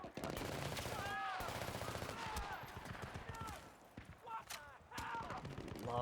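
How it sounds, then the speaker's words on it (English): Rapid bursts of automatic gunfire from the video game Battlefield: Bad Company rattle continuously, with someone talking over the shooting throughout. "Those guys are firing right over there."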